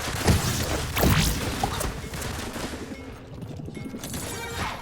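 Turret firing in the Realm Royale video game, a dense burst of rapid shots and crashing impacts, loud and continuous through a chaotic battle.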